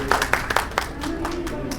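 Brief scattered hand claps from an audience welcoming a guest at a birthday celebration for a spiritual leader, a few sharp claps in the opening second before a steady murmur with some speech.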